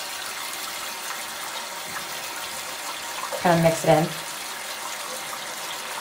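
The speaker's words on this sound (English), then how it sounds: "then I'm going to put the water in." Water pours briefly into a basin for washing a short-haired wig, a short splashing gush of about half a second set against quiet room tone, while a person talks nearby.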